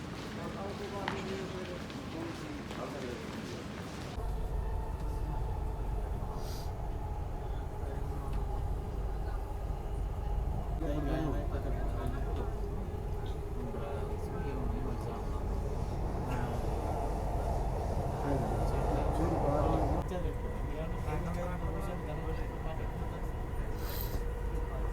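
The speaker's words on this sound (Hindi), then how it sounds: "ये जी मेट्रो स्टेशन" Metro train at a station platform, a steady low rumble and hum with rolling rail noise throughout, joined by a louder surge from about four seconds on as the train moves, with faint voices and announcements mixed in.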